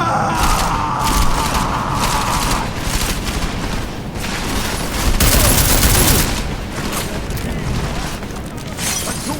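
Sustained, dense gunfire in Deus Ex: Mankind Divided, loud and continuous shots overlapping into a chaotic fusillade with crashes and impacts throughout, close and relentless.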